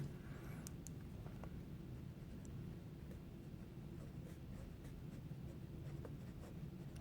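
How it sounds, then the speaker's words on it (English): A Lamy Al-Star pen writes print letters on paper, a faint continuous scratching with small strokes, close and quiet over a low room hum. "let me do a little bit of print writing"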